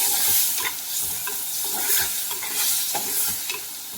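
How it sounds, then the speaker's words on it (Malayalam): Shallots frying in a pan for a curry, stirred with repeated scraping strokes over a continuous hissing sizzle, close and loud, with no one talking. "ഇപ്പോൾ ചെറിയുള്ളി ഇങ്ങനെ മൊരിഞ്ഞു വരുന്നുണ്ട്"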